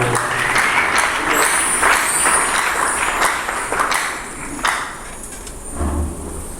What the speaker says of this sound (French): Merci pour les acclamations pour notre envoi.